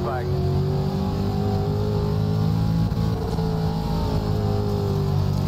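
A limited late model race car engine roars at full throttle on the Charlotte dirt track in iRacing, a loud, continuous, steady drone with other cars close by throughout.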